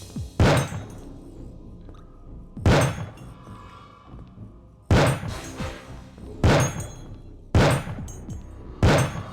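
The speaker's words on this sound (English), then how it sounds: "This is the worst sounding rifle I've ever heard." Rifle shots in the video game Neuro Hunter, six dull, thudding reports spaced about two seconds apart, each with a short decaying tail, loud and close with no talk.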